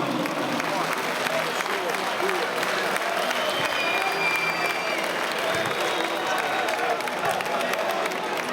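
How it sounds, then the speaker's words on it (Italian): Crowd applause at a Serie D 2010-2011 champions' parade, steady dense clapping filling the whole stretch with faint cheering and voices mixed in. "Un applauso."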